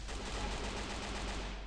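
Rapid, dense gunfire rattles on without a break in the Free Fire video game, with shots aimed at a parked car, loud and close throughout.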